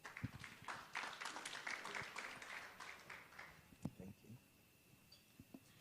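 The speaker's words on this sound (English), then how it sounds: "A round of applause for Mr. Pai." Applause for a speaker at a post-budget business breakfast, scattered clapping from the audience that thins out and fades over a few seconds, with murmured voices underneath.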